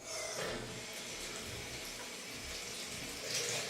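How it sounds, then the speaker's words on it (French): Warm tap water runs steadily while hair is wetted during a hair-care routine, a continuous close hiss of flowing water with no talking. "Donc, je vais mouiller mes cheveux"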